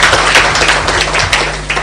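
A conference audience at the launch of a national designated authority claps steadily throughout, a dense and fairly loud burst of applause that holds for the whole moment with no voices on top.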